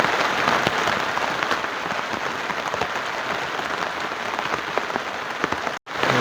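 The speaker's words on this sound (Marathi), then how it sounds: "पाऊस लागतो बाहेर." Steady rain pours down outside a tent at night in a forest campsite, a dense continuous patter filling the whole stretch, loud and close, with one brief dropout near the end.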